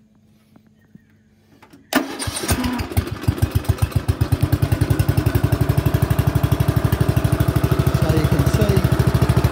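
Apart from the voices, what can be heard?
Greenfield Fastcut 32 inch ride-on mower engine running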